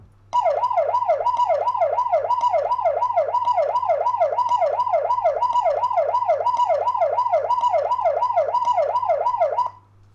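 A Vstarcam CS611Q-UV security camera's loud electronic siren wails in a rapid, repeating up-and-down warble, starting abruptly and cutting off after about nine seconds.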